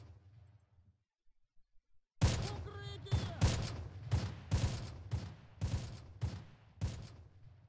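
Gunfire in the World War II tactical video game Close Combat: after a near-silent start, a rapid burst of sharp rifle and machine-gun shots cracks out in a fairly loud, irregular volley lasting several seconds.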